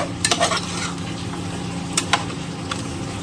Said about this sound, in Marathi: छान असं पुन्हा मिक्स करून घ्यायचं